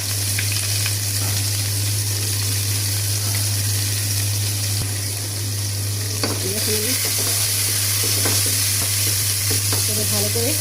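Chopped onions with two dried red chillies fry in hot oil, giving a steady, loud, close sizzle and crackle that lasts the whole time, with occasional stirring scrapes and a low hum underneath.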